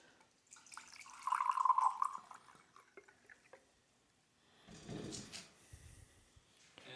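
Welch's white grape juice, four ounces, poured into a pitcher: a short trickling liquid stream near the mic, followed later by a few clinks and bumps of handling.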